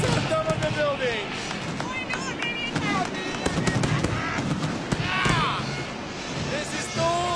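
Fireworks go off during a night celebration in Barcelona, Spain, with repeated sharp cracks, pops and whistling streaks scattered over several seconds, mixed with excited voices and crowd noise.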